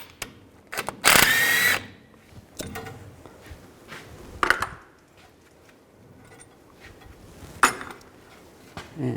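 An impact or power tool zips out 18mm caliper bracket bolts on a 1999-2007 Chevy Silverado 2500's rear brakes, one loud whirring burst followed by several shorter, quieter bursts with clanks between them, close up.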